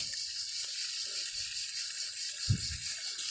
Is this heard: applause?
no